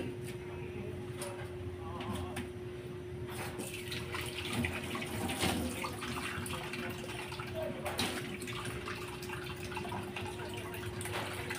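Water runs steadily from a tap into a pot for cooking pancit canton in a home kitchen, a soft continuous splashing with a few clinks, fairly quiet.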